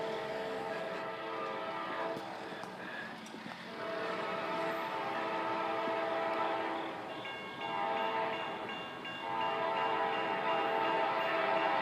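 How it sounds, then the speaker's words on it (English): A first-generation Nathan K5LA horn on a train passing Washington Street in Athens, Alabama at night blows long, loud chorded blasts that hold steady over the rumble of the moving train. "Sounds like a first gen K5."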